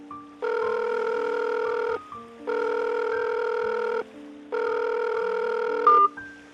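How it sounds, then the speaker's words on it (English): A telephone call rings out in three long, evenly spaced tones, each about a second and a half with short gaps, then cuts off with a brief higher beep. The line is clear and moderately loud, with no talk. "The call rang and then cut."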